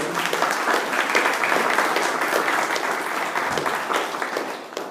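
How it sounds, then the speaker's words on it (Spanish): A church congregation breaks into dense, continuous applause, loud and sustained throughout with no pause. "Tanto le da un aplauso a Cristo"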